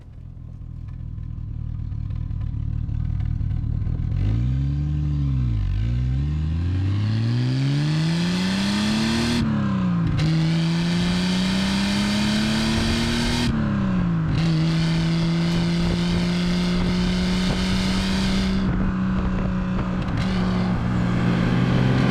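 A Triumph TR sports car engine on the road, revving up through the gears with rising and falling pitch, loud and close, a continuous drone that climbs steadily between shifts.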